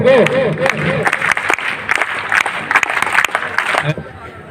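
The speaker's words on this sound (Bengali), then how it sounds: "সারের জন্য একটা স্কাউট তালি দিব" A group of people performing a scout clap together for a teacher, producing a dense burst of clapping with crowd noise and voices mixed in, steady and loud throughout the short stretch.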